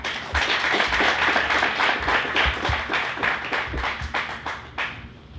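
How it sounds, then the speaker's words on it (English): Guests on a show are greeted with applause, a modest group clapping with distinct individual claps and a few heavier thumps, fading slightly toward the end. "Please give her a round of applause."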